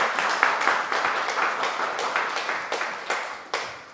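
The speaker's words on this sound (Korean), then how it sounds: "우리가 예배드리는 걸 우리가 감사한 박수로 격려합니다" A church congregation claps steadily together, a dense, even patter of many hands that carries on without a break and stays fairly loud throughout.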